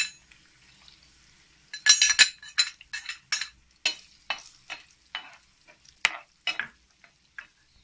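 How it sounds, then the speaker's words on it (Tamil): Cashews and raisins fry in hot oil in a pan, a run of close, crisp stirring scrapes and clinks over a light sizzle after a quiet start. "இப்போ நம்ம முந்திரி கிஸ்மிஸ் ஆட் பண்ணிக்கலாம்."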